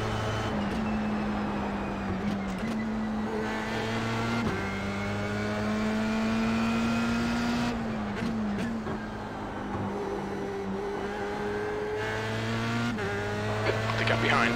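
A Formula 3 race car laps Imola in the iRacing sim game, its engine droning steadily with repeated upshifts and downshifts, rising and falling revs, and a few tire squeals. The engine runs continuously throughout.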